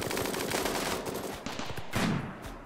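Gunfire in the video game Rimworld: rapid, crackling bursts of automatic shots in quick succession, fairly quiet and without talk.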